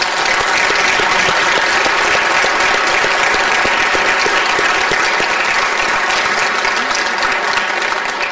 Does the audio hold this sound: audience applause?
yes